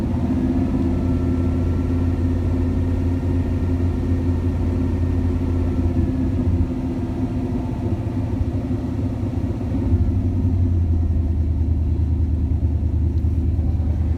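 Engine of a 1979 Pontiac Firebird running steadily with a deep low rumble, held at a raised idle-to-rev level with slight shifts in pitch, close and loud, no talk.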